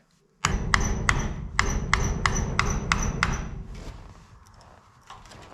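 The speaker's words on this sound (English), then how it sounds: "now we can hammer out the other side" Steel hammer blows ring out in a steady series of sharp metallic strikes while knocking out a part on a Jeep CJ5, close and loud, then trail off into quieter shop noise.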